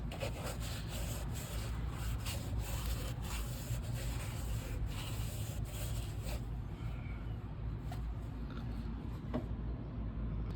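An engine block deck surface, fouled with mixed oil and coolant, is scrubbed in a steady, close, low rubbing and scraping that continues without a break and without talk.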